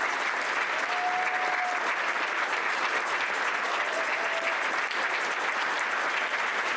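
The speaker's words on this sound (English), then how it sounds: "join me in a round of applause for the dedicated individuals and fantastic team" An audience gives a team on stage a round of applause, a steady, even wash of clapping from a large crowd, sustained at a constant level throughout.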